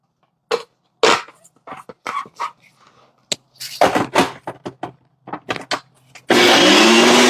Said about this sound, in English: Throw it in my high-speed blender like such.